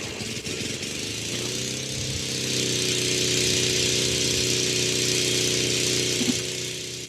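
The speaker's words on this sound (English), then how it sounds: "No, that's a lawnmower." A lawn mower engine drones steadily throughout, a constant mid-pitched rumble with a slight rise in intensity partway through.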